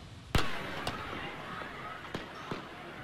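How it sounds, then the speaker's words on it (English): Gunshots ring out during a high school football game in Toledo, Ohio, captured on a local broadcast: one sharp loud crack followed by three fainter separate pops spread over a few seconds, amid crowd ambience. "Local broadcasters captured the moment gunshots rang out."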